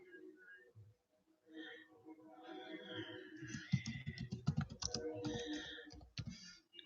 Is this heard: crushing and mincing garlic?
no